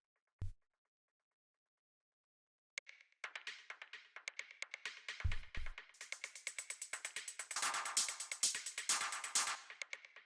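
Techno drum rack of processed percussion samples: a lone hit, a pause, then a dense run of rapid clicky ticks, taps and snappy hits that builds into a busy, loud, bright rhythmic pattern with occasional low thumps.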